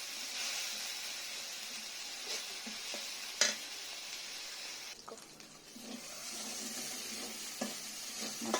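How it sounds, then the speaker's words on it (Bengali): Spice paste for a pigeon meat curry sautéing in oil, a steady broad sizzle with scattered stirring scrapes and a sharp clink near the middle, close and alone without talk. "মশলাটা প্রায় কষানো হয়ে গেছে, তেল ছেড়ে দিয়েছে।"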